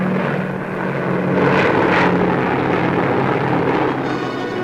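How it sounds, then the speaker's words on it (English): Drone of B-29 Superfortress bomber engines over a Pacific air offensive against Japan in 1944, a steady loud propeller roar that swells slightly midway, with no talking. "B-29 super fortresses in repeated blows slash deeper into Japan's empire."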